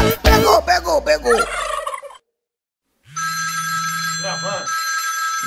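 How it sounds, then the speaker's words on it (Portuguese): A turkey gobbles up close in a rapid, rattling burst with voices around it, then after a brief silence a telephone ringtone chimes steadily. "me ajuda a pegar esse peru"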